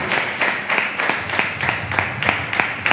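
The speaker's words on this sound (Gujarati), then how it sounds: "તાળી વગાડી જોરદાર" A church congregation clapping loudly during a sermon: steady, rhythmic claps in unison, close and energetic, repeating about every third of a second.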